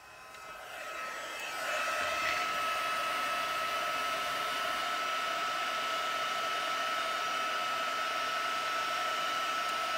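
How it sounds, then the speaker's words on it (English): A heat gun blows steadily to melt embossing powder, a loud, close whooshing hum that starts up in the first second or two and then runs unbroken, with no talking. "I'm going to use my heat gun just a little bit longer on this one"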